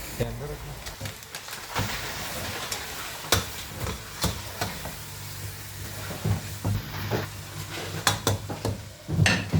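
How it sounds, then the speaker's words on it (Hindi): Chicken fries with spices and turmeric powder in a pan, giving a moderate sizzle broken by repeated clattering stirs and scrapes, while talking can be heard over it at times. "इसके साथ हम चिकन को अच्छी तरह से फ्राई कर लेंगे"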